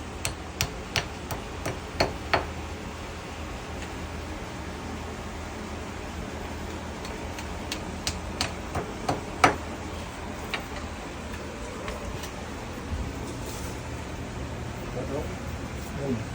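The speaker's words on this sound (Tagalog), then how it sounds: "Martilyo." Sharp hammer strikes ring out in short bursts during a window air conditioner installation, several quick blows in a row then pauses, over a steady background hiss.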